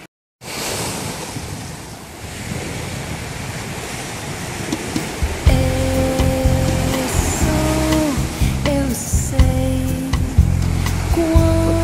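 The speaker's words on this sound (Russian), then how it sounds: "Вот там риф, конечно, волны разбиваются" Ocean waves break on a reef near Beruwala, Sri Lanka, a steady roar of surf with wind noise throughout; midway, a sustained tonal hum like a passing boat or engine rises under the wash.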